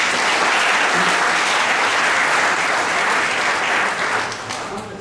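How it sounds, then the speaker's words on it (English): An audience at a national auto tech fest in Kolkata gives a loud, sustained round of applause after a dance performance, dense clapping that tapers off slightly in the final second. "You deserve a huge round of applause."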